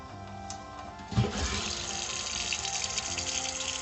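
Tap water gushing again after a frozen pipe in winter is fixed, a steady, close rush of running water that swells in after a short clunk and continues evenly.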